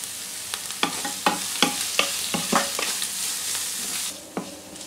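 Onion, ginger, garlic and green chillies sautéing with a little salt in a pan for moru curry, a steady frying hiss broken by repeated sharp scraping stirs of a spoon, close and alone.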